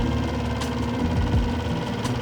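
Outboard motor on a Chesapeake Light Craft Passagemaker dinghy running at its lowest idle, a steady low mechanical hum and thrum throughout, close and without talk.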